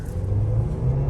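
A 2020 Mercedes-Benz GLB 250 pulling hard in first gear, a steady low engine rumble and drone heard from inside the car, loud and unbroken with no talk.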